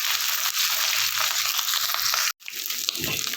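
Whole spices for Bengali khichdi fry in a pan, a dense, bright sizzle close by that cuts out for a moment and then resumes with some crackling and light stirring.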